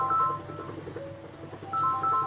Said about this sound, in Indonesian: Bentar ya, ada telepon ya.